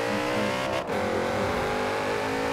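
A Porsche Panamera Turbo engine roars steadily and loudly close by, a dense continuous drone with a brief dip partway through; no voices.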